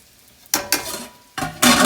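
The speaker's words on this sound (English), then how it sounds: "Now get the little sizzle on, turn it up a little bit." Loud sizzling of chicken breasts in a hot pan, bursting in abruptly after a quiet start and swelling again, with a brief clatter as the pan is moved.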